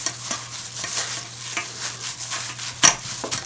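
Butter and sugar for apple brownies are stirred and scraped around a bowl, with soft rhythmic swishes and occasional utensil knocks under a faint steady hum, one sharper clink near the end, and no voices.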